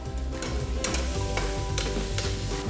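Garlic and onion sautéing together in a pan with other aromatics, a steady close sizzle with scraping stir strokes and utensil knocks throughout, no voices.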